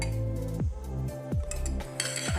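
A spoon presses vegetables down into a jar for lacto-fermentation, giving three or four close, sharp clinks and scrapes of metal against glass spaced about a second apart, with no talking.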